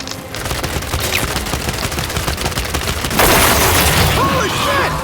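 Gunfire during a Matriarch boss battle in the video game Gears of War 5, dense rapid bursts of shots with booms and an explosive surge partway through, with characters shouting over the fighting.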